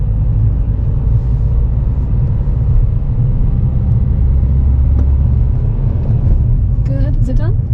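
A car pulls away and accelerates on a road during a driving lesson, its engine a steady low rumble with continuous road noise throughout and a brief higher whine near the end.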